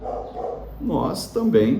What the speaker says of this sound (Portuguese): tem um cachorro latindo no fundo aí